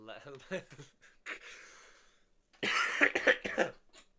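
Several harsh, close coughs in uneven bursts, with rough throat-clearing and breathy gasps between them.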